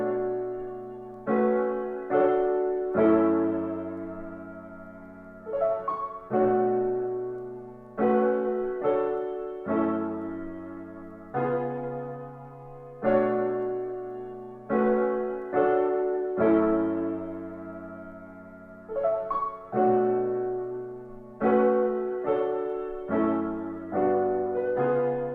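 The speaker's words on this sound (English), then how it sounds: "So for the start, I just started off with this piano." An Omnisphere virtual upright piano plays a slow sequence of soft chords, each struck and left to decay, repeating in a gentle, steady rhythm.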